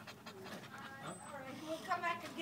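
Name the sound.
dog panting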